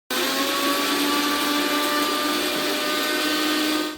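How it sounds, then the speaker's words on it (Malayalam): A mixer grinder whirs continuously at high speed while grinding coconut paste, a loud steady motor roar lasting a few seconds before cutting off, without any speech. "ഇനി നമുക്ക് കുറച്ച് കുറച്ചായിട്ട് ഈ അരപ്പൊന്ന് അരച്ചെടുക്കാം"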